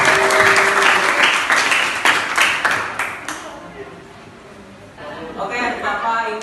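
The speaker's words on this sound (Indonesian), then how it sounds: "Tepuk tangan semua." A class at SMKN 10 Jakarta breaks into loud applause during an Islamic education lesson, the clapping strong for a few seconds before dying away as voices take over.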